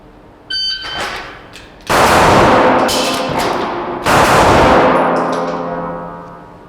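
Handgun shots in a two-shot, reload, two-shot drill: a brief report near 0.5 s, then two loud, close blasts around 2 and 4 seconds, each with a long ringing decay.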